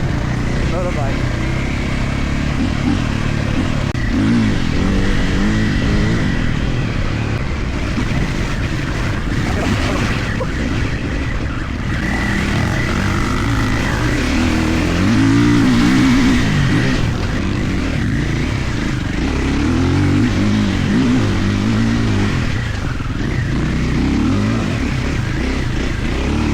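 A Triumph off-road motorcycle ridden in its stock MX-style map roars continuously through slippery corners, engine loud and close with rough, fluctuating revs and wind buffeting, while the rider talks over it.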